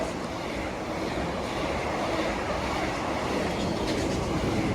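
A train pulls out of the sidings at Watford Junction after standing there for years, and its low rumble and rolling wheel noise hold steady at a moderate distance.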